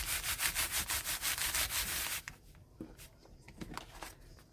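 A hand rubs paper flat over a journal cover in about ten quick, even swishing strokes, then softer scattered rustling as the handling slows.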